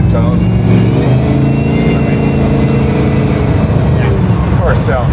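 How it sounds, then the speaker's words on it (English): Supercharged 700 hp LT4 V8 in a 1969 Camaro revs loud and close, a steady heavy engine drone filling the whole stretch, with a voice speaking over it. "The car sounds wonderful"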